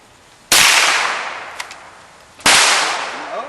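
Two loud, sharp pistol shots ring out at outdoor morning target practice, spaced about two seconds apart, each leaving a long ringing decay with no talk between them.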